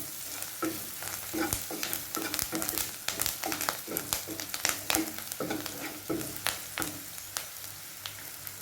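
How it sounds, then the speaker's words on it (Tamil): Butter beans fry in a pan with salt and garam masala, a steady sizzle broken by repeated scraping stirs in an uneven rhythm, close and clear. "இதே லைட்டாக வதக்கி விட்டுக்கலாம்."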